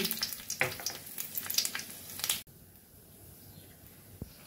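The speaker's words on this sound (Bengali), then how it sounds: "কড়াইতে তেল গরম বসিয়ে দিয়েছি। দিয়ে দেবো জিরে, তেজপাতা আর এলাচ ফোড়ন।" Cumin, bay leaf and cardamom hitting hot oil in a wok, a bright crackling sizzle with a sharp spit, then dropping to a faint quiet hiss.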